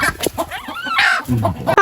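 Chickens clucking and calling at close range on a farm in Lambug, Badian, Cebu, with brief bursts of fowl sounds and a short higher crow-like call near the end, heard over faint background noise.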